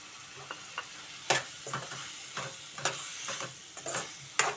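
Long-cut tomato pieces fry with ridge gourd and moong dal in a pan, a soft steady sizzle broken by irregular clinks and scrapes of stirring, close and fairly quiet, with no talking.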